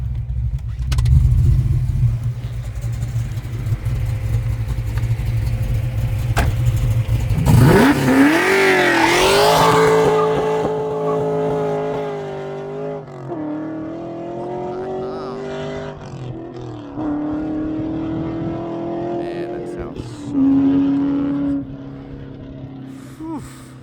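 A 1993 Ford Mustang Summer Edition with a 363 Boss V8 and six-speed is revved hard, a loud roaring rise in pitch followed by several sustained high revs and dips, heard close by with some talk around.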